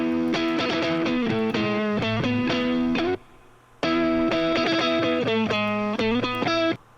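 Electric guitar through a Miniplex amp model with mild crunch and heavy compression, strummed in rhythmic chord bursts, a brief gap midway, then the pattern resumes, loud and alone.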